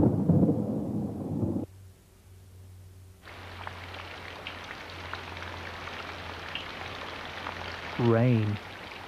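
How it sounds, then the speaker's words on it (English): Rain with thunder in a classic children's television show: a short loud rumble opens, then after a quiet gap a steady wash of falling rain, with a brief warbling tone near the end. "Rain."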